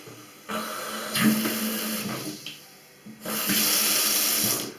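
Water gushes from a mixer tap after a leak repair, near and steady, switched on in bursts with brief drops in flow between them and no speech.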